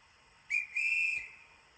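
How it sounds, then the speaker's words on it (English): A guard's whistle from the DCC sound decoder of an EFE 1938 tube stock model train sounds in two short shrill blasts. A brief first note is followed by a longer sustained one, clear and fairly near against a quiet background. "it will play the guard's whistle from the rear unit"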